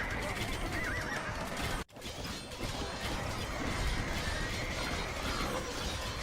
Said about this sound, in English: We need a Chukanu on a horse